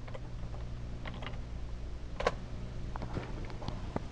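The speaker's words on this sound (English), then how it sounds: "then just type it in. And you hit enter" Computer keyboard typing into a web browser, a sparse, quiet patter of key clicks with one sharper tap midway, over a steady low hum, no voices.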